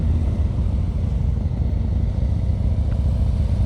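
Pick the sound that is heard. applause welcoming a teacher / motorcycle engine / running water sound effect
motorcycle engine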